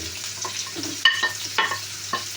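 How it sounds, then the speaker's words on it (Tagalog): Garlic sizzling in a frying pan with browned pork while being stirred, giving a steady close crackle broken by several sharper scraping stirs of the utensil against the pan. "Haluin mo lang, haluin mo sa lumabas yung aroma niya."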